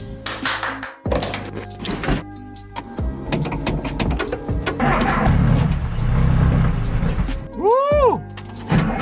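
A 1968 Porsche 912 is started and moved amid loud garage noise, its engine turning over and idling with a rough rumble, a whirring mechanical sweep near the end, and people talking over it.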